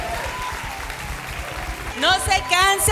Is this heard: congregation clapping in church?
yes